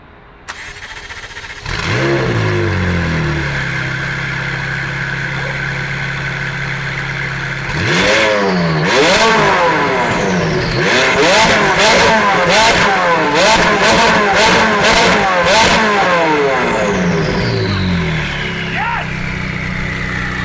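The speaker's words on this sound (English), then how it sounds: "I promised you guys a startup of this car with the new Fab Speed exhaust" A McLaren 675LT fitted with a Fab Speed exhaust fires up with a sharp bark and settles into a loud idle, then rips through a rapid series of high revving blips before falling back to idle.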